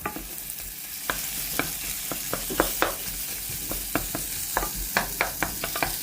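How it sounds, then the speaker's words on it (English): Onions sauté in butter in a pan with a continuous soft sizzle, punctuated by repeated sharp scrapes and clinks of stirring at irregular intervals, close up and alone. "Just saute these onions down in a little butter."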